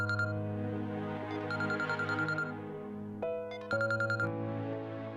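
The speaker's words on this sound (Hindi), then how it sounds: "इतनी देर से फोन कर रहा था, उठाया ही नहीं रही थी" A phone rings with an incoming call in a drama scene, repeated electronic ringtone bursts with short gaps, loud and close, no talking over it.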